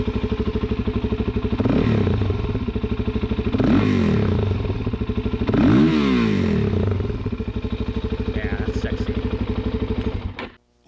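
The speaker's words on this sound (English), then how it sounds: "So here we go, rev it up, baby." A 2018 Suzuki DR-Z 400S motorcycle engine idles loudly up close, then rises in three sharp revs at roughly even intervals before dropping back to idle and cutting off near the end.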